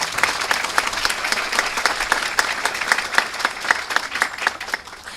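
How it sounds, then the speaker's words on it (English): Audience applause at a dedication and ribbon-cutting ceremony, a steady dense burst of many hands clapping, loud and sustained for several seconds, with scattered individual claps standing out. "Let's please give them all again a round of applause."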